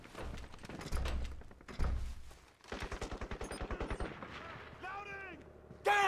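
Gunfire in Crysis multiplayer on the Shore 2 map: heavy shots and a fast rhythmic automatic burst, with game voices calling out over the combat.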